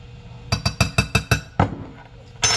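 Dry muffin ingredients made with freshly milled flour are combined in a bowl, heard as a quick series of six sharp clinks, likely a measuring spoon tapping a bowl, then a softer knock and another scrape close up, no talk.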